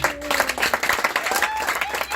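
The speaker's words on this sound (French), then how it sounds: "On peut l'applaudir." A church congregation applauds at a twelfth-anniversary renewal service: dense, continuous clapping from a crowd for about two seconds, fairly loud and close.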